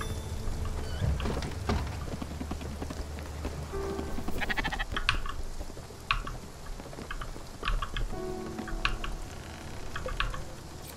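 Sheep bleat in the video game Spiritfarer, short bleats rising over a busy bed of game sounds and soft drips around the farm.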